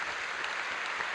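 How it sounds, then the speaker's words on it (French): Applause for the president at a 2014 New Year's greetings ceremony, a steady even patter of clapping hands that holds throughout the short moment without voices. "On peut l'applaudir"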